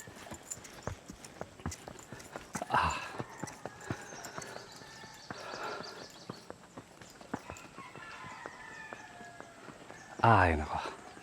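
A horse walks at a nature campsite in Magdalena, Laguna, its hooves clip-clopping in a steady, close rhythm while people talk nearby.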